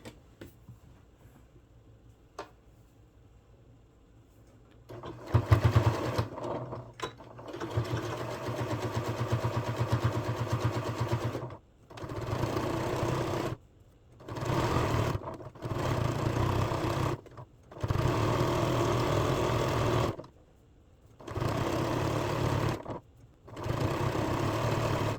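A sewing machine runs in several steady bursts while stitching the bottom hem of a ruffled boho top. Short pauses separate the bursts, and the motor sits close with a mid-pitched hum.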